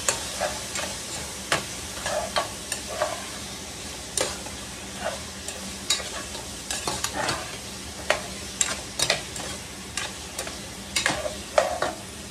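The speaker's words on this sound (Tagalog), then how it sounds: "lalagay ko na yung gulay ha. Haluin ko muna." Pakbet vegetables (squash, eggplant and bitter melon) being stirred in a frying pan, with repeated scraping utensil strokes over a soft sizzle, fairly close and steady throughout.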